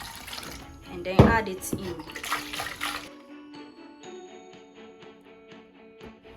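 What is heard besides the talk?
rinsing a blender with water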